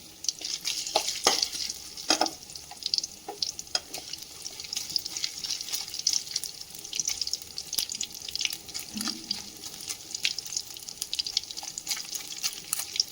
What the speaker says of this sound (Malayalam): ഇനി ഞാൻ ഇതേ എണ്ണയിലേക്ക് കുറച്ച് തേങ്ങ കൂടി അരിഞ്ഞത് ചേർത്ത് കൊടുക്കും ഇതും കൂടെ ഒന്ന് ഫ്രൈ ചെയ്ത്